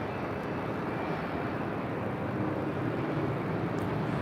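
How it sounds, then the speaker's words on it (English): A United Airlines Boeing 757-300 takes off at LAX bound for Honolulu, its jet engines producing a constant, broad roar that fills the air without pause. "This is United Airlines 1431 about to take off to Honolulu on a 757-300."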